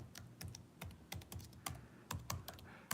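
Fingers tap out short, irregular bursts of keystrokes on a computer keyboard, close and fairly quiet, with brief pauses between clusters.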